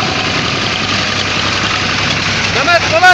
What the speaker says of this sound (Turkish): Şimdi traktöre bineceğiz.